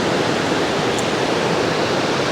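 High water of a high-altitude alpine river rushing in a dense, unbroken roar, loud and close, with no voices over the steady wash.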